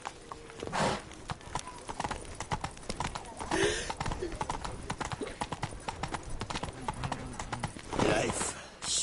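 Hooves clip-clop at a steady gallop from a horse in The Witcher video game, with a whinny or two and game voices talking over the rhythmic hoofbeats.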